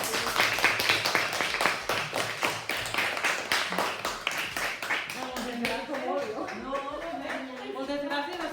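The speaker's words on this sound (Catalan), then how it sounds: "Li fem un aplaudiment." Schoolchildren clapping for a businesswoman after an interview at a school, a lively burst of many hands that settles into a rhythmic beat, then fades under rising chatter and voices.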